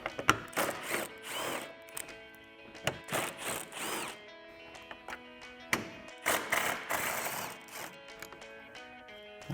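A socket wrench with an extension ratchets and clicks in short, uneven bursts while backing out 10mm bolts from the black headlight bezel of a 2015-2017 Ford F-150, close and fairly quiet with pauses between.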